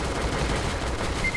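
A rapid-firing penguin gun in a video game: a dense, continuous stream of automatic shots blending into one steady roar, loud and close throughout.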